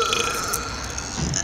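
A long, loud, rasping burp from a belching competition rumbles on continuously for over a second, close and harsh, with no talk over it.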